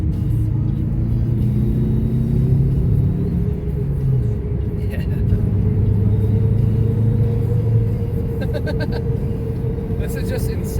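Turbocharged Toyota Corolla accelerating hard, a steady loud engine drone whose pitch climbs as boost builds, heard from inside the car.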